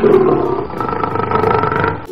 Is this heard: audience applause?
no